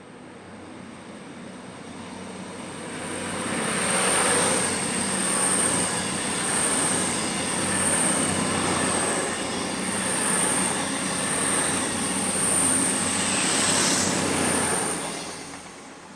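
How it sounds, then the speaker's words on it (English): Class 221 trains working an Edinburgh to London Euston service pass through a railway station with a loud, swelling roar, rhythmic wheel beats and a high, sustained wheel squeal throughout. "221, 104 and 110 pass through the station working the 852 from Edinburgh to London Euston."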